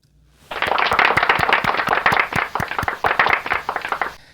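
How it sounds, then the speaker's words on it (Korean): A church congregation applauding at a Christmas service, sharp loud claps bursting in suddenly and rolling on in a dense, uneven wave of many hands, close and strong before easing off at the end. "우리 모두 큰 박수로 감사와 영광을 돌리겠습니다"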